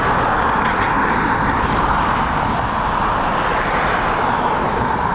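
An ATR turboprop airliner arrives at Dublin Airport from Birmingham in high winds, its engine drone a steady, loud broadband roar that holds evenly throughout, with no talking.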